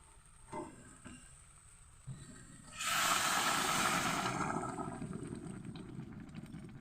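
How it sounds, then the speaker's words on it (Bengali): Hot water is poured into a sizzling new-potato curry, setting off a sudden loud, hissing sizzle that swells at once and then fades slowly, after quieter cooking sounds. "এবার আমি দিয়ে দেবো এখানে জল আর জলটা দেখো আমি গরম করে নিয়েছি"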